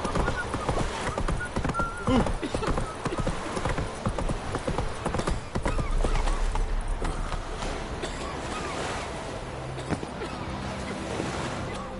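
Horse hooves clip-clop steadily and busily, loud and close, under a dense mix of other sounds, with shouting voices urging the horses on.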